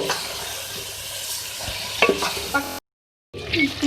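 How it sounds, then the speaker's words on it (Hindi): Spinach cooks in a pan with potatoes, cauliflower and peas, stirred with scraping spoon strokes over a constant sizzle, briefly cut to silence before the frying resumes. "तो आप देख सकते हैं हमारी जो पालक है वो भी कुक हो रही है"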